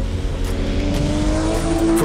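A Porsche 935/78 'Moby Dick' race car with a 3.2-liter boxer engine roars steadily, its loud, rising engine note mixed with a faint tire squeal.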